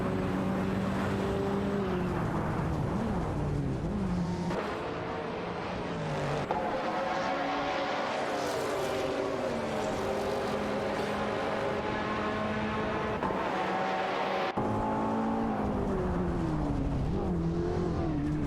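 Race car engines drone steadily in a racing video game that includes an Audi IMSA GTO and a Ferrari, with pitch rising and falling through gear changes and several brief drops.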